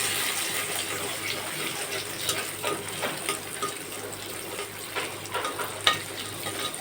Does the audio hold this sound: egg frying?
yes